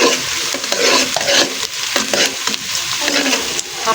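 Onion, green chili and cinnamon fry in hot oil for khichuri, giving a steady, close sizzle broken by repeated scraping stirs of the pan.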